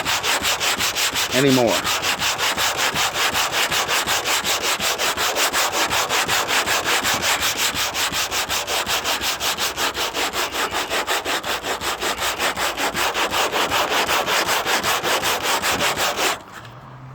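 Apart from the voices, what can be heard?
crosshatch sanding of paint on a 1957 Bel Air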